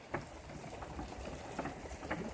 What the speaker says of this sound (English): it's been raining hard like this for over an hour